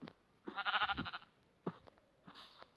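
A Minecraft sheep bleats in a wavering, drawn-out call, followed by a couple of shorter bleats, fairly close and clear with quiet gaps between.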